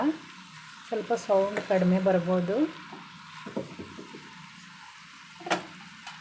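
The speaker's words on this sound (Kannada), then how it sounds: "ನೋಡಿ ಆ ಕಡೆ ಫ್ರೈ ಆಗ್ತಿದೆಯಲ್ವ" Beans and carrot fry in a pan with a steady crackling sizzle, while someone talks over it for the first few seconds and a sharp clink stands out near the end.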